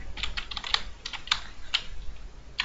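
Typing on a computer keyboard during a Minecraft gameplay session, a quiet run of close, quick key clicks with a few louder taps and short pauses.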